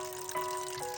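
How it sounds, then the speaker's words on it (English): Water trickles and splashes steadily from a little pipe set into a small spring on a mountain trail, a close, faint, continuous run with a soft hiss. "check out this little piped spring. They put a little pipe in the spring"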